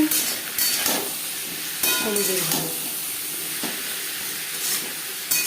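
Papaya frying in a pan with salt and turmeric, a loud continuous hiss of sizzling oil and steam with intermittent scraping stirs, close and alone with no talk.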